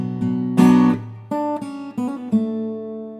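Clean guitar plays the closing section of a solo from a song: a handful of plucked, ringing single notes and short slides, close and clear, with no voices.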